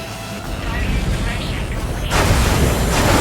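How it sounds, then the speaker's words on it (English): A railgun firing amid explosions in the aerial combat game Ace Combat 7, a dense rumbling roar that swells into a louder broadband blast partway through, with a voice talking over it. "Railgun is firing again."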